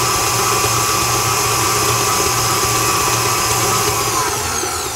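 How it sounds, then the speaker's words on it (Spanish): An electric mixer beats chocolate frosting at high speed after powdered sugar has been added, a loud, constant motor whir that holds steady for the whole stretch without any speech. "ahora voy a batir a alta velocidad"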